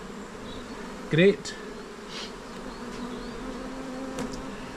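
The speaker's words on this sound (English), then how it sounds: "I've got a box full of bees" A box full of honeybees during a shook swarm gives off a continuous droning buzz, with one sharp louder burst early on and a voice speaking briefly over the hum.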